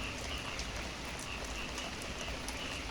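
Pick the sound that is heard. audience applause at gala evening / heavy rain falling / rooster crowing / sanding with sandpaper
heavy rain falling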